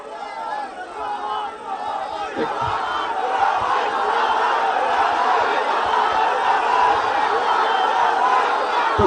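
A large crowd chants and shouts slogans at a canal-digging inauguration rally in Sylhet, a dense continuous roar of voices building slightly over time.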